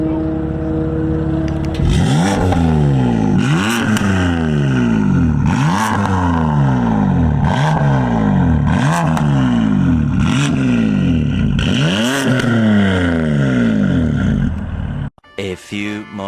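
A BMW M3 with an Active Autowerke single mid-pipe exhaust, valves open in Sport Plus, revs repeatedly inside a parking garage, about seven loud rising-and-falling blips in a steady rhythm with echoing rasp, then a brief burst at the end.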